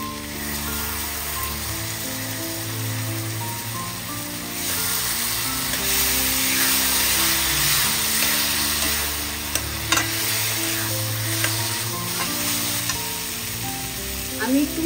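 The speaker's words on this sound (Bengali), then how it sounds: "এবার আমি টক দইটা দিয়ে দিচ্ছি।" Sour yogurt hits a hot pan of beans and beetroot and is stirred in, giving a loud, steady sizzle with scraping strokes that swells as it cooks, and no speech.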